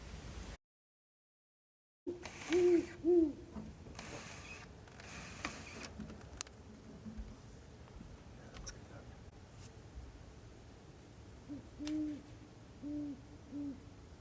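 An owl hoots nearby in short, soft, low calls: a pair of hoots early on, then another cluster near the end. Faint rustling and quiet background noise fill the gaps.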